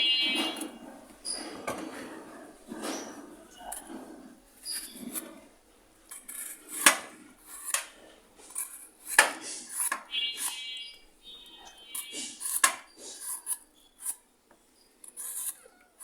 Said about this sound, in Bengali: এখন পটলের তরকারি রান্না করব, তাই পটলটা কাটে নিতেছি